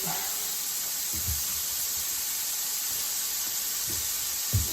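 Curry chicken cooks down in a pan with a steady hissing sizzle, joined by a few soft low bumps and stirs.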